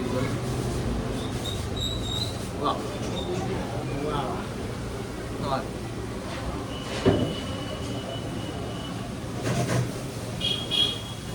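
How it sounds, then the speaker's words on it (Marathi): Steady low rumble of road traffic passing in the background, with occasional louder vehicles and a distant horn, under nearby talking. "पाठीमागे फक्त गाड्यांचा आवाज येणार आहे"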